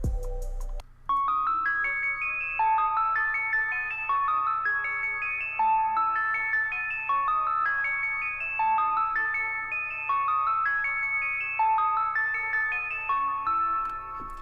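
Bright Omnisphere synthesizer arpeggio ripples in quick repeating notes over a low steady bass drone, even and sustained throughout.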